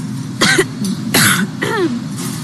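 Three short, harsh coughs into a hand, close and fairly loud, spaced about half a second apart with brief throat-clearing rasps between them.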